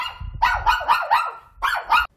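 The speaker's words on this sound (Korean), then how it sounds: "내려놓자마자 다시 짖기 시작하는 녀석" A small dog barks in a quick string of sharp, loud barks at close range, pausing briefly before two more barks, with no talking over it.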